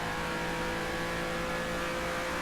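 A Renault race car engine in a racing video game holds a steady, high-revving drone, faint and continuous with a sustained whine and no talking.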